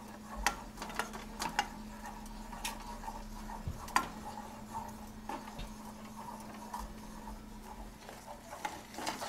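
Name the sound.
wooden spoon stirring golden milk paste in a pot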